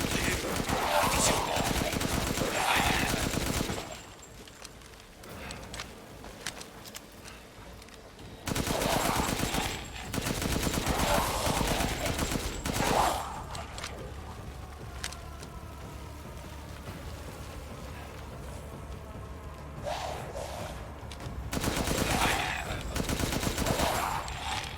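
Weapon fire in the video game Resident Evil 8, rapid bursts of shots in several loud stretches separated by quieter gaps, with game sounds and voices in between.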